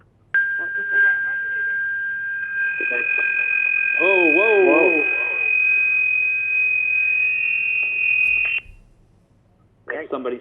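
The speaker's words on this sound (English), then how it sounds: "That's somebody's phone." A phone rings during an online board of trustees meeting, a steady electronic tone with a warbling burst midway, sounding close and loud for several seconds before cutting off, with a brief exclamation from a participant.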